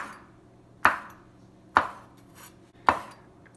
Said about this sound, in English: a coarse chop, basically a slice, and then I will work at mincing those